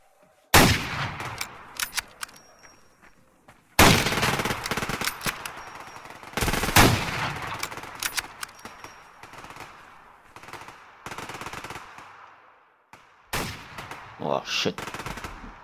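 Pistol gunshots in the Survarium video game, set on the School map: sharp, loud cracks arrive in separate bursts with pauses between them, over a dense, busy game soundscape.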